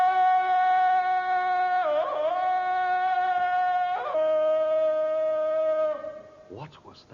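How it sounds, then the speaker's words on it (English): Tarzan's victory yell, the cry of a victorious ape: one long, loud, sustained yodelling call that holds steady, breaks and warbles midway, then carries on at a slightly lower pitch before cutting off, close and alone. "It's the cry of the victorious aboriginal ape."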